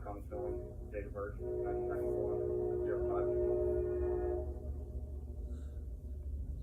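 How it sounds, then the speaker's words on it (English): A train sounds its horn in the distance, a sustained tonal blast lasting a few seconds over a low rumble, with people talking nearby. "does that mean the train's coming southbound or going?"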